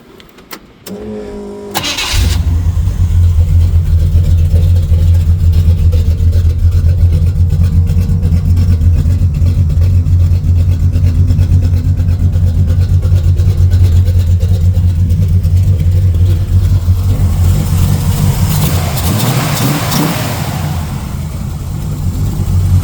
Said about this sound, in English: I got on the Camaro. She should fire up, no pump shot, nothing.